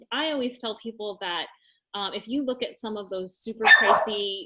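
Small dog yips and barks in a brief burst near the end, overlapping someone talking steadily close by.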